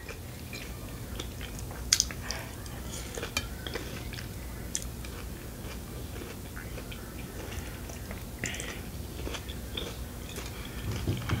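Someone eating a piece of fruit nearby, with quiet, irregular wet chewing and biting sounds close to the mic over a low background hum.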